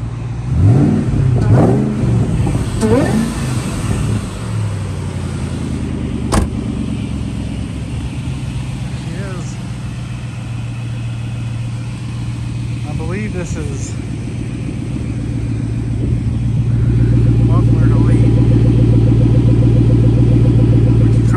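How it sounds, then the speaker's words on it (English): A 2003 Ford SVT Cobra convertible with headers and an aftermarket intake revs a couple of times, loud and close, then settles into a steady rumbling idle that swells louder toward the end, with a voice speaking over the start. "Rev it a couple times for you."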